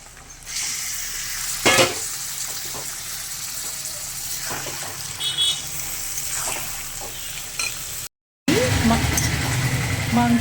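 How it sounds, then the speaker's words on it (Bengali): Mutton pieces with onion, sour yogurt, tomato and spices frying in a pan, a steady close sizzle broken by occasional scrapes of stirring, with a short dropout near the end and voices talking at times. "মাংসটা সব মশলাগুলো একসাথে দিয়ে কষিয়ে নেব।"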